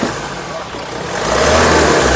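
A 2015 Mahindra XUV500 W6 SUV engine hums close by and then climbs into a louder, rising rev as the throttle is pressed, with a voice speaking over it.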